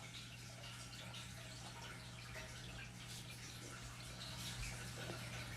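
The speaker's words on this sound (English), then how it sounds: "Actually, Jack, do you hear that water in the background?" Water runs continuously in a fish tank, a faint, steady trickle and splash with a low, constant hum beneath it and no talking.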